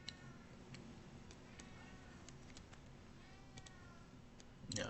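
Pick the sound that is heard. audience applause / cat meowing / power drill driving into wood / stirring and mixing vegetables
cat meowing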